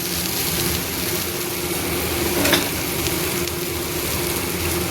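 French beans sabji cooks in a covered pan with a steady, soft sizzle and gentle frying hiss, fairly even throughout with one brief louder clink near the middle.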